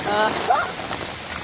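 Heavy rain pours in a steady, dense hiss close by, with voices speaking faintly in the background.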